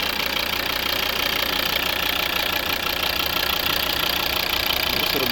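A 2011 Volvo V50 with a 2.0 D3 diesel engine and automatic gearbox idles steadily nearby, a continuous even rumble with a faint knocking texture and no voices over it.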